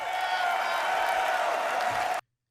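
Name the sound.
crowd uproar and applause at Star Citizen RSI Galaxy reveal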